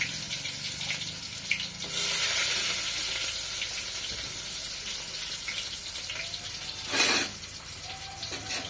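Onions frying in hot oil with cumin and mustard seeds for a village-style bottle gourd biryani, a loud continuous sizzle with a brief surge of hissing midway and no talking.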